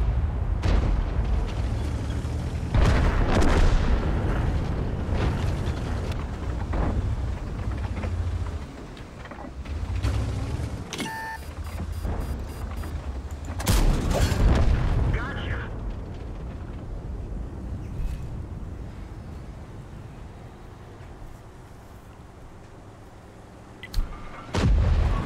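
Tank cannon shots and booming explosions from World of Tanks gameplay, heavy low-frequency blasts recurring through the clip amid engine rumble and game noise, with someone talking over them.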